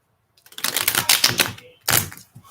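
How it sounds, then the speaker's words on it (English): Tarot cards are shuffled in a rapid, papery riffle of dense flicks close by, a short pause, then another quick burst of card handling. "let's just pull 4 cards"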